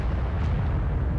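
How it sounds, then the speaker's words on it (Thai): A human spaceship blows up in the video game Aliens vs Predator, a dense, loud rumbling blast that fills the short moment with low, roaring noise. "ยานมนุษย์แตก"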